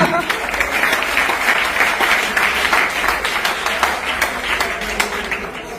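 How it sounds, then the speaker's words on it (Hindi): A live-show audience in India applauds after hearing about people who bought two plots through ZedPay, a steady wash of many hands clapping held at an even level for several seconds, with a few sharper claps standing out. "तालियां।"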